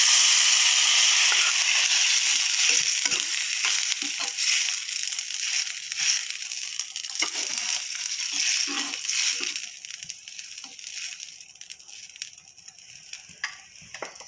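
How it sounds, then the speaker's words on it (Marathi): Already-cooked moong dal goes into a hot tempering for Marathi dal tadka, setting off a loud, crackling sizzle that gradually settles and thins over about fourteen seconds, with no talking. "त्यामध्ये आपण आपली मुगाची डाळ घालून घेऊया"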